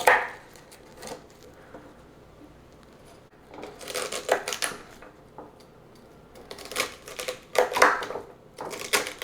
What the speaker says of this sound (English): Next we're going to dice the celery.